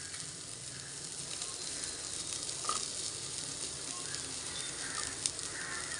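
Vegetables sizzle in a pan of sautéed onions for masala rice, a steady bright frying hiss with small crackles and a faint stir partway through.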